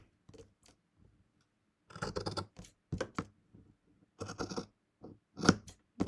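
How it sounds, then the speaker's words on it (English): Scissors snip through quilting fabric close by in short bursts of crisp cuts separated by quiet gaps. "So I'm going to trim again these apart."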